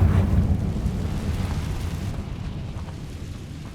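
Confringo fire spell blast in Hogwarts Legacy, a loud rumbling explosion at the start that fades into a long low roar.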